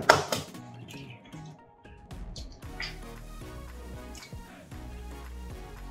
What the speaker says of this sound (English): Next step, let's break the eggs.